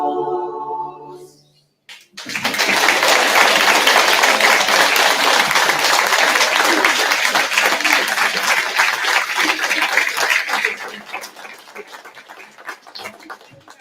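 Audience applause at a volunteer awards ceremony, a loud, dense crowd clapping that swells in after a brief musical ending and holds steady for several seconds before thinning out.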